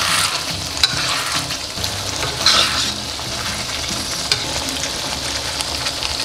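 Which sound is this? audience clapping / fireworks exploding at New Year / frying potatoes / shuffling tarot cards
frying potatoes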